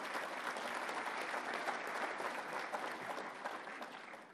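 Forum audience at the Africa Investment Forum gives dignitaries a warm round of applause; dense, even clapping from a large crowd continues steadily throughout.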